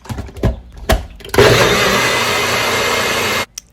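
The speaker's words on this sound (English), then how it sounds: "And now let's blend it away." A few soft knocks, then a blender blending ginger lemonade whirs loudly and steadily for about two seconds before cutting off abruptly.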